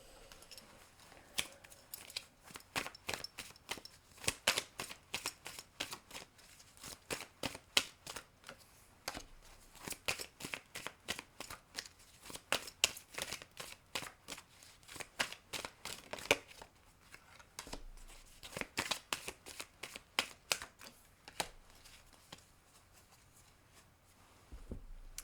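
Tarot cards are shuffled in repeated quick bursts of crisp riffling and slapping, close and clear, with short pauses between rounds and no talking.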